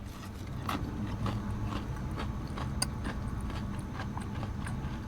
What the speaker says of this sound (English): Oh, the chewing is a lot.